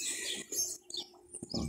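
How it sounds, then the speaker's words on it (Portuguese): A small bird near a swimming pool in Gravatá, Pernambuco, gives a few short, faint chirps scattered over a quiet outdoor background. "Ó, passarinho chegando, badalzinho, ó."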